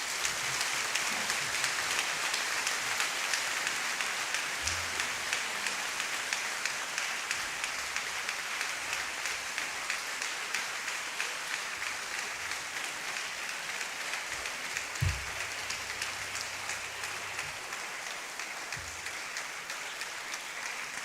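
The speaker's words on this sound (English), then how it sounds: "Our lecturer deserves a standing ovation, please. Let's give him a standing ovation. And keep clapping for him." A lecture-hall audience gives sustained, dense applause after an inaugural lecture, a continuous even patter of many hands that carries on without a break for its whole length.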